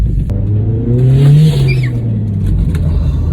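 A loud modified Astra VXR van engine revs up, pitch climbing and then settling, with a whooshing turbo whine over the steady engine rumble.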